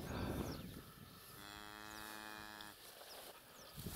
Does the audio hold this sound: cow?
yes